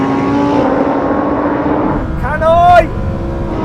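Sports car engine in a drag race against a Nissan GT-R, a steady drone that swells into a rising rev sweep near the end, with someone talking over it.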